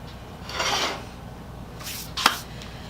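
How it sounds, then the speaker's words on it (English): Rust is scrubbed off the outer metal shell of an old buffing machine: two short, close rasping strokes a second apart, followed by a sharp metallic click. "I'm probably going to clean it up and get rid of some of the rust on the outside of the shell"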